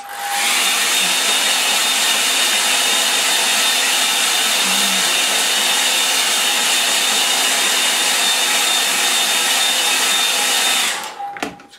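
A hair dryer blows steadily to dry a wet line-and-wash watercolour painting of a snowy scene, a loud constant whirring roar lasting about eleven seconds before it switches off abruptly.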